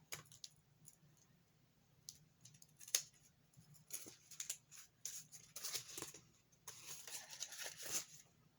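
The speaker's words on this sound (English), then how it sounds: "And run my scissors up and trim it." Scissors trim strings on a handmade junk journal with paper pages, a series of faint, close snips and rustles in irregular bursts.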